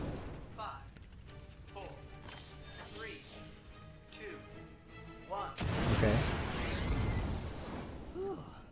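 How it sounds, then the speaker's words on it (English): Explosions in the video game Ratchet & Clank: a heavy, rumbling blast erupts midway and keeps roaring, following a stretch of scattered game effects and pops. "Cool guys don't look at explosions."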